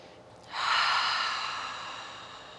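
A single long, breathy exhale is released during a yoga class as a cleansing breath, rushing out close and soft after a faint intake and slowly fading over about two seconds.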